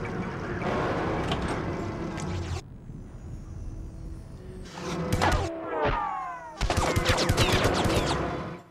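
A sniper rifle firing at a security box beside a gate in the spy game 007: Everything or Nothing, heard amid loud clattering gunfire, with bursts of sharp cracks and ringing metallic impacts separated by a quieter gap.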